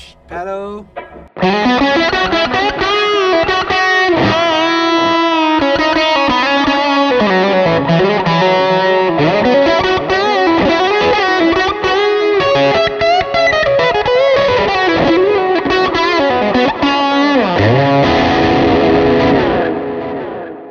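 Electric guitar through a cheap Wish.com Klon clone overdrive pedal plays a continuous run of driven, slightly distorted lines after a brief opening strum, ringing out at the end.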